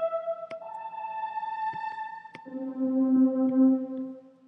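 Chords from the "Something Wonderful" preset in the Sonic Synth motion synths, a soft sustained pad with smooth shifts between a few chord changes, played alone and fairly quiet.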